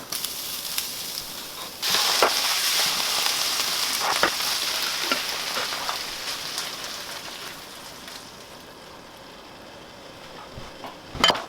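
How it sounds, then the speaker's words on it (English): A tomato-pumpkin pasta sauce simmers in a pan, giving a soft, steady sizzle and crackle. It grows louder for a stretch, is punctuated by a few light clicks, and fades toward the end. "While my sauce is cooking"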